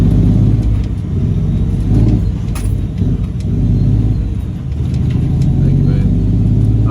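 A truck pulls in close by, its engine giving a steady low rumble with a slight rise and fall in revs throughout.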